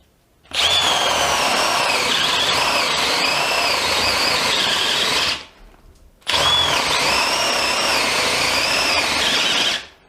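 A DeWalt Atomic DCD709 cordless combi drill runs in two long, loud bursts of steady whirring, separated by a brief pause.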